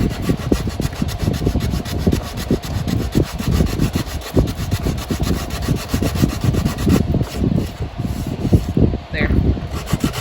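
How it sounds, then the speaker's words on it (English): Sandpaper is rubbed by hand along wooden edges in steady back-and-forth strokes, a loud, close, rhythmic scraping that continues throughout without pause. "It was an 80 grit, so there's a little bit of that. It's probably like at a 100, I would say right now, which is perfect to sand the edges."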